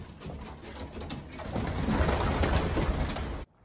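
Racing pigeons with healed broken wings coo softly and repeatedly at close range, a low murmuring that swells midway and then stops abruptly, with no voices.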